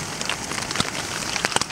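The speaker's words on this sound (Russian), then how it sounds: "Моросит еще дождик." Light drizzle falling in a winter forest, a soft continuous patter of raindrops with a few sharper nearby drips standing out, steady and close with no voices.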